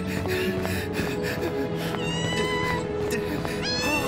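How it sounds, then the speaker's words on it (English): A cat meows in a Brookhaven roleplay animation: several high, plaintive meows repeat over a busy, steady background of noise and music. "Hi, little kitty. Are you all alone too?"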